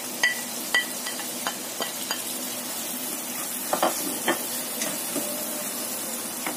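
Tomato and chili being stir-fried in a pan for a Chinese-style tofu dish, a soft continuous sizzle broken by repeated sharp clicks and scrapes of the spatula stirring, close and fairly quiet.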